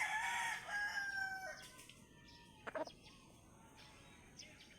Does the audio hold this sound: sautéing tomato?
no